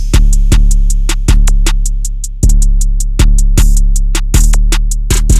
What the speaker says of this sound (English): So just with the drums, it sounds like this.